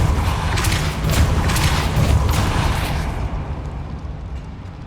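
Confringo explosive spell cast in Hogwarts Legacy inside a goblin mine, a loud sustained blast with booming low rumble and crackling bursts that fades out toward the end.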